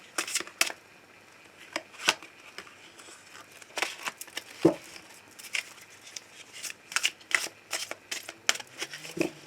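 Tarot cards being shuffled by hand for a love reading, producing soft, close riffling and slapping bursts in an irregular rhythm over a quiet background.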